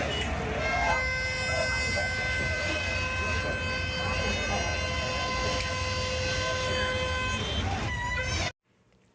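A metro train at a station in Hyderabad rumbles steadily with a loud sustained tonal whine or horn-like hum over it, then cuts off abruptly near the end.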